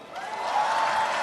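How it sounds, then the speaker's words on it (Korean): Audience applause at a Busan campaign rally for presidential candidate Lee Jae-myung in May 2025: a dense, steady wash of clapping from a large crowd that swells slightly and holds without pause, with a faint sustained tone running through it. "구보민 학생한테 큰 박수 다시 한번 부탁드립니다"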